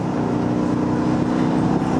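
A 2012 Dodge Charger R/T accelerating on the interstate, a steady low engine drone mixed with road and wind rumble from inside the car, with no talking.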